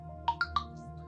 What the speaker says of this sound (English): Excuse me, my phone is on blast here.